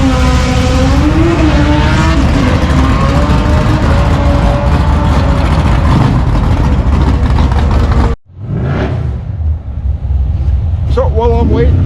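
A drag race car roars loudly on a quarter-mile run, engine note climbing through rising harmonics for several seconds before cutting off abruptly, followed by quieter rumble, wind noise and some voices.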